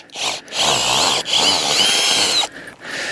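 A power screwdriver whirs loudly in several bursts with short pauses, backing ground screws out of the earth while a Kodiak Canvas tent is taken down outdoors.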